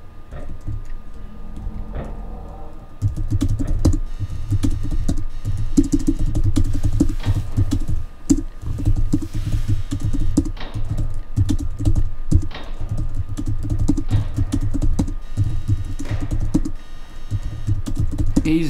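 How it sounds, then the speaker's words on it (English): Very fast typing on a computer keyboard starts after a quieter opening and becomes a dense, continuous clatter of key clicks, close and loud. "They're typing faster than us. This is typing speed."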